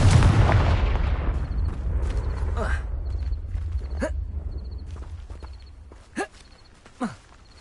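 The Confringo fire spell in Hogwarts Legacy: a loud, booming explosive blast that rolls off into a long fading rumble, followed by a few sharp magical whooshes and thuds near the end.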